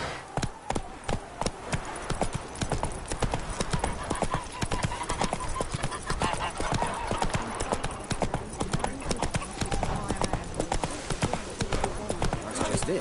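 Roach, a horse in The Witcher 3, gallops steadily with rapid, even clip-clop hoofbeats throughout, close and loud, with an occasional faint snort or whinny and no talk.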